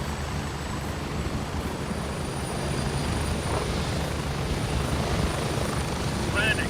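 A helicopter landing in a video game, its steady rotor and engine drone filling the whole stretch loud and close, with a slight rise partway through.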